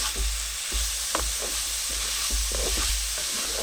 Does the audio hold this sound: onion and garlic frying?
yes